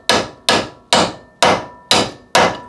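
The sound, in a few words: hammer striking tool to notch a bolt head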